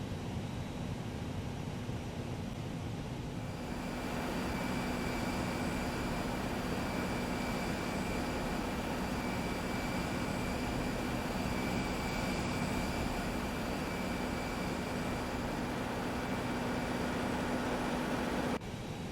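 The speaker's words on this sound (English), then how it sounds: "we got the APU up and running" An Airbus A320neo auxiliary power unit starting up in the X-Plane 11 flight simulator, a faint hiss that swells after a few seconds into a steady whining hum held to the end.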